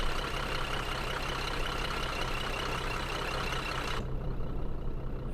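A Scania truck engine drones steadily in a truck driving simulator game, a loud, continuous rumble with broadband road noise whose upper hiss suddenly drops away near the end while the low engine tone carries on.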